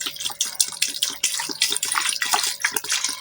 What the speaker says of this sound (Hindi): मैं इसमें पानी डाल के इसको प्रेशर लगा लूँगी